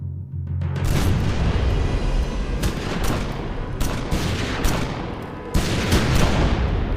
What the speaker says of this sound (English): Suddenly, the stillness is shattered by the blast of gunfire.